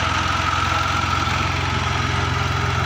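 A tractor engine running on a farm plot, a steady close chugging idle with a fast even low throb and constant loudness, no voices.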